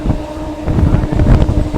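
A Katwa–Howrah galloping local train rolling into Howrah, a steady low rumble with wind buffeting and faint rhythmic clatter, recorded close from on board.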